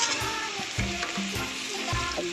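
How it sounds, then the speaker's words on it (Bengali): Papaya pieces frying and being stirred in hot oil in a pan, a steady close sizzle with periodic scraping stir strokes and no talking. "একটু পেঁপেটা ভেজে নিই, তারপরে আলুটা দেবো"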